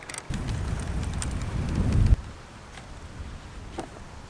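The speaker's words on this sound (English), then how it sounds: "I don't know whether you can hear me over this wind as well" Strong gusts of wind outdoors buffet the microphone in a loud, rumbling surge that cuts off abruptly, leaving a calmer, softer breeze behind.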